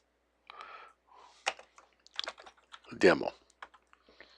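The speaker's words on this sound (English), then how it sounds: "let's see if I type this in." Keystrokes on a computer keyboard as a command is entered, short bursts of clicking mixed with someone talking over them.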